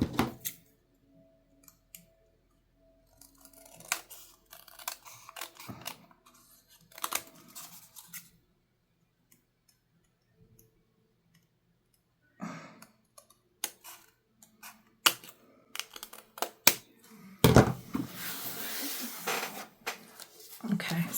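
Scissors snipping off excess paper while assembling a handmade card, a few scattered crisp cuts separated by quiet pauses, followed by louder rustling and handling of paper near the end.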